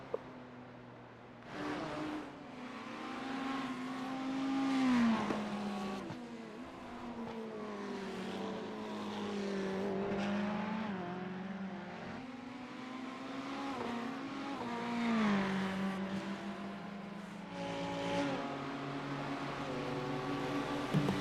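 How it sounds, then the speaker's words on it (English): V8 race car engines in a sim racing game drone continuously, with the pitch climbing and falling as several cars accelerate and shift, a steady layered roar lasting throughout with no talking. "Very easy to sit back and enjoy the lovely V8 note"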